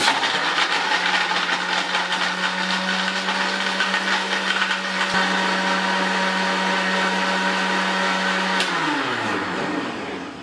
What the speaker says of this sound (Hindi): चीनी भी हल हो जाएगी, बर्फ़ भी, इसमें सब कुछ हम दोबारा इसको ब्लेंड करेंगे।